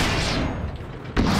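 A tank cannon fires in the World of Tanks video game, one loud booming blast that rings out and decays, followed by a second sharp shot near the end.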